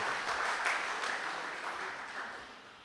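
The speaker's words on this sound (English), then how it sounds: "Let's give them a round of applause for being here with us this evening." Applause from an audience at a community center meeting, a steady wash of clapping that slowly fades over a few seconds, heard from a moderate distance with no voices over it.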